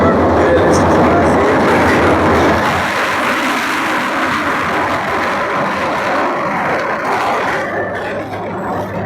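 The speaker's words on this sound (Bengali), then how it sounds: "এখানে একটা রেল আসতেছে, রেলটা আমরা রেল স্টেশনে আছি" A train rolls into a railway station with a loud, continuous rumbling roar of wheels and cars that eases slightly midway and stays steady throughout, with no clear voices over it.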